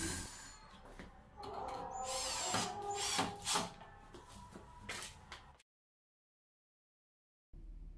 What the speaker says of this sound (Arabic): وبعد كده بالدريل أو الشنيور هبدأ أعمل ثقب وأحط فيه الفشر